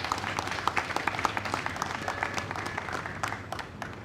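An audience applauds at a Guyana and Caribbean vaccination launch event, with steady clapping from many hands carrying on throughout at moderate volume.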